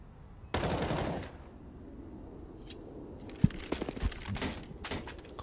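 Gunfire rings out in the CS:GO video game, including sniper rifle shots: a loud burst of rapid shots near the start, a sharp single crack, then a cluster of quick shots and bursts toward the end.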